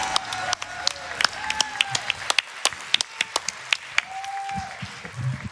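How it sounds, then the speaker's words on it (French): Live audience clapping at a speedrun charity event, a steady patter of many hands with scattered sharp claps, close and sustained, with voices mixed in underneath. "Applaudissements."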